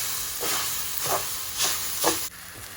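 Sabudana khichdi, a tapioca pearl dish with lemon juice added, sizzles in a pan under a steady hiss, with three or four louder bursts of frying and stirring at a regular pace, close and fairly loud.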